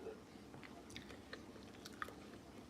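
Someone chewing and biting into food during a meal, soft close crunchy mouth sounds repeating over a quiet background with no talk.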